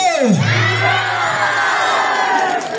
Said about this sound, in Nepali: यति ताली मिठो गरी बजाउनु भयो